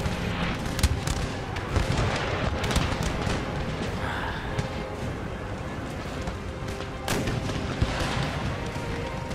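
Cannon fire in the video game Empire: Total War sounds as dense, continuous booms and crackling volleys over a battle din for several seconds, with several sharper blasts standing out.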